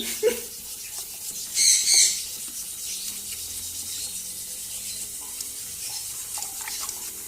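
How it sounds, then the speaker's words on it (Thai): A toilet is flushed during bowl cleaning, with water rushing and gurgling steadily at moderate volume. There are a few brief squeaky sounds near the start. "แล้วก็กดกดน้ำออกดู"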